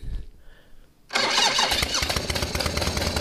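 A 1973 Harley-Davidson Sportster motorcycle engine cranks and catches, bursting from quiet into a loud, steady running rumble that continues to the end.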